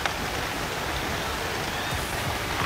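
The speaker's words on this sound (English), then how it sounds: "Lovely fishing in the rain." Rain falls steadily at a fishing lake, a dense, even hiss of drops that holds the same level throughout, with no voices.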